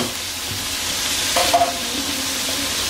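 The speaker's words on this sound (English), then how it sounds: "I like to have my grease on high so it can cook real good" Fried chicken cooking in grease turned up high gives a steady, close hiss of frying, with a brief louder burst of spitting and popping partway through and no voices.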